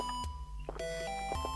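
Stair noise in the video game Yume 2kki repeats as a short series of bright, electronic chiming beeps with a steady rhythm, loud in the foreground over quiet game background sound.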